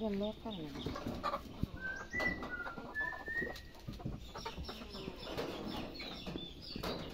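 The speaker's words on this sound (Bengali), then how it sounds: "মুরগির খোয়ার থেকে যে মুরগি ধরে নিয়ে আইছে" Native chickens cluck and murmur near a chicken coop, mixed with other bird calls and scattered thumps and rustling, with some faint voices in the background.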